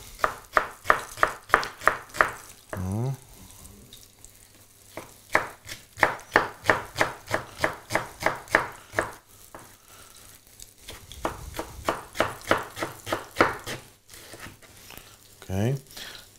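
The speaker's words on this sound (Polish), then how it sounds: "Będę potrzebował kawałeczek pora. Pokroję go w takie może" A knife cuts a piece of leek into thin julienne strips on a board, fast regular close chops in several runs with short pauses, over a faint background hum.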